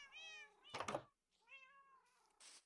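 Cats meowing in the Minecraft video game, several clear drawn-out mews close by, with a brief thumping knock between them.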